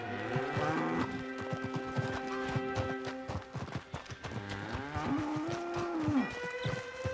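Cattle moo in long, drawn-out calls over steady hoof clopping in the video game Red Dead Redemption, with a horse snorting and moving nearby, all fairly close.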